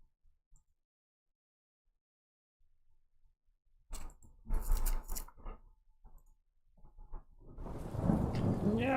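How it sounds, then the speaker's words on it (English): Heavy rain pouring with thunder near an old steel mill: after near silence, sharp rumbling thunder cracks burst in and a dense, loud hiss of downpour builds toward the end. "Rain begins to pour as fog rolls in."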